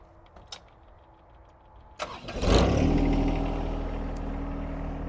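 After a few clicks, a John Deere 1025R compact tractor engine cranks and catches, then settles into a loud, steady low rumble as it idles.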